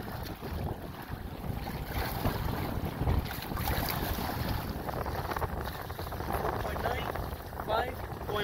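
Steady wind buffets the microphone while a Hobie Outback kayak is pedaled on open water, a continuous rumbling gusty roar with faint water sounds beneath.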